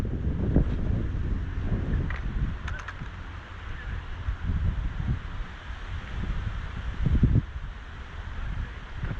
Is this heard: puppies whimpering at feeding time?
no